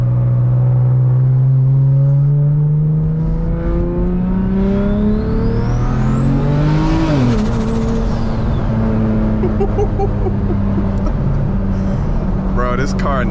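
A BMW 335i with a big turbo and a 3.5-inch exhaust revs loud and close, its engine note climbing steadily before dropping sharply on a downshift and settling into a steady drone with a high turbo whine.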